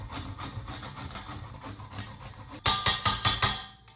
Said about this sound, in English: I'm gonna grate it, okay? And also I'm gonna grate the garlic.